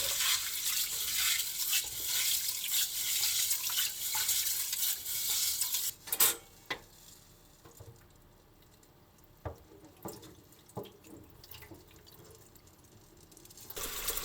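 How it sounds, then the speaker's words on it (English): Beans for dorayaki filling are rinsed in a pot of water, with continuous sloshing and hissy splashing for several seconds, then quieter swirls and scattered wet knocks and clinks, no talk. "Rinse the beans in plenty of water"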